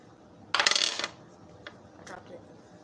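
A 20-sided die drops onto a table during a card game, a sharp clattering bounce of rapid rattles followed by a couple of faint later taps.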